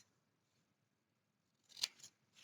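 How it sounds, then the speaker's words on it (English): Scissors snip through cardstock at an angle while making photo corners for a holiday recipe album, one short crisp cut after near silence, close and clear. "you just take your scissors and evenly cut at an angle like that"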